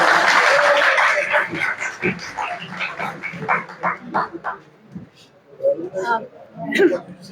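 An audience at a mushaira poetry gathering applauds as a poet is welcomed onto the stage. The clapping is dense and loud at first, then thins out into scattered claps while voices murmur underneath.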